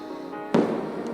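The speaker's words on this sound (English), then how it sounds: "Up in the sky, majestic fireworks went off" A single firework bursts in the night sky, one sharp bang followed by a crackling decay, moderately loud and alone, with a faint second pop near the end.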